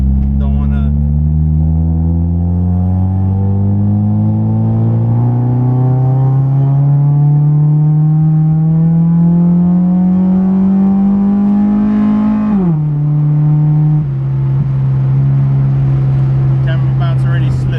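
A K-swapped car engine climbs steadily in pitch as it accelerates hard in third gear, loud and close, then drops briefly at a shift or lift before holding a steady drone.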